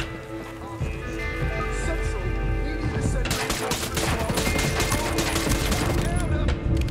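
Pistol gunfire in Ghost Recon Breakpoint during a solo night-time operation, a rapid run of loud shots over continuous game noise and music, with a voice talking partway through.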